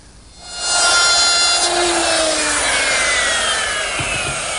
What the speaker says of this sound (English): Now that was the first pass to make the edge detail of the top using a 1/2 inch router bit.